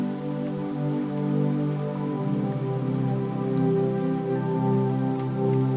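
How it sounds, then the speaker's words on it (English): Soft rain falling continuously, blended with a sustained low harmonic drone tone, steady and even throughout. "The rain is beginning to slow now, becoming even softer"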